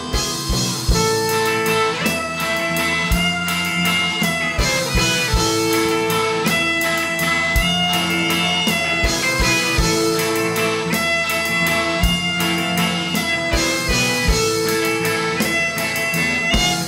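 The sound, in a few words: saxophone playing ska-style music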